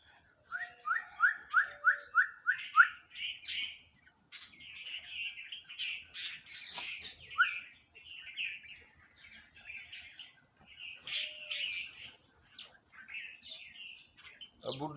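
Small birds gather to be fed and chirp nearby: a quick run of bright, evenly spaced tweets opens the clip, followed by scattered, overlapping calls and twitters that continue to the end.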